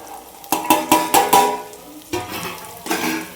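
Vegetables tipped into a hot pan and stirred during home cooking, with a run of close scraping, clattering strokes for about a second, a pause, then further stirring against a steady low sizzle.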